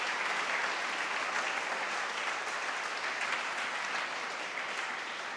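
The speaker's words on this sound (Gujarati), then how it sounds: "આના માટે જોરદાર તાળીઓ" Steady, sustained applause from a seminar audience on Gujarati literature's role in India's independence movement, a dense even crowd of clapping hands filling the room at constant loudness throughout.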